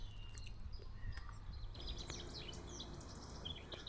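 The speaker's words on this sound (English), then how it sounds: "There's nothing better than waking up to this beautiful sound of the birds." Birds sing on a spring morning outdoors, with scattered chirps and twittering calls becoming busier midway through, set over a steady low background rumble.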